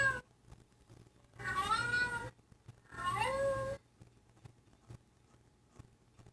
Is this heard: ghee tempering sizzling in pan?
no